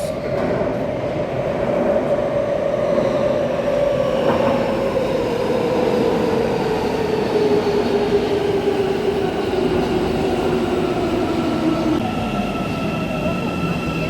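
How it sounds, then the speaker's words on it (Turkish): An Istanbul metro train runs steadily throughout, with a loud rumble and a rising and falling whine from the motors, plus faint rattling of the cars. "yoğun istek üzerine metro çekiyoruz"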